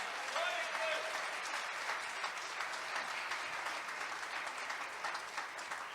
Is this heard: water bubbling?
no